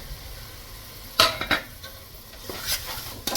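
Ground coriander, mint and green chilli paste stirred into biryani in a pressure cooker, a few sharp metallic scrapes and clinks of a spoon against the pot over a soft sizzle, close and clear with no talking.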